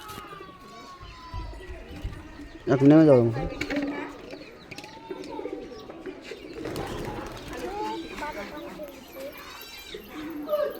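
Homing pigeons coo in low, rolling calls close by, with a clear burst near the start, while a person talks over them and other faint bird chirps sound around.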